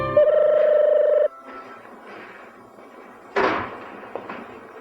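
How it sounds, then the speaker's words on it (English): A loud, steady ringing tone of a telephone in a political attack ad about a White House phone ringing at 3 a.m. rings for about a second near the start, followed by quieter background sounds and a sharp thump later. "there's a phone in the White House and it's ringing"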